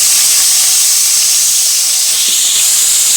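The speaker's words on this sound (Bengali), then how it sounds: "গরম তেলের মধ্যে দিয়ে দেবো কুচানো পেঁয়াজ" Continuous loud hissing sizzle of chopped onions in hot oil, steady and close with no voices.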